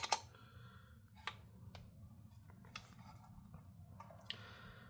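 Clicky footswitch and button presses on a Teleport guitar pedal for remote jamming, a few sharp near clicks spaced irregularly over a low steady hum.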